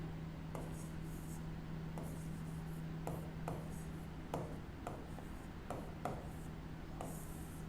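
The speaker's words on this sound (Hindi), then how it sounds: "सबसे पहले अपन लिखेंगे प्रजामंडल" Pen strokes scratch and rub on paper as a word is written by hand, soft irregular scrapes and taps over a faint steady hum, quiet and close with no clear talking.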